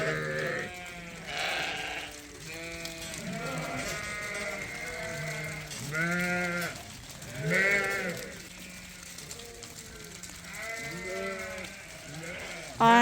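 A flock of sheep led by a ten-year-old ewe bleats continuously, several animals calling in overlapping, wavering cries at close range, with no talking.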